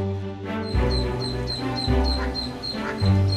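Small ducklings quack and peep repeatedly near a rock by the water, with a quick run of high, bright calls that stay close and fairly loud.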